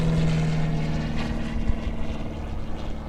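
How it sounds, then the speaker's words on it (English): A propeller airplane passes overhead, a steady droning engine hum with a clear low tone that holds throughout, fairly loud with no talking. "hold on a second, we're gonna let this plane pass"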